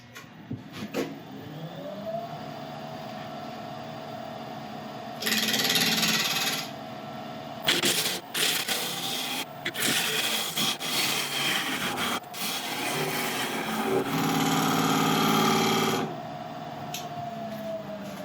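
Chestnut burl spinning on a wood lathe as a tool cuts along its edge, a steady motor whine with rough scraping and rubbing bursts that swell and fade, close and fairly loud, no speech.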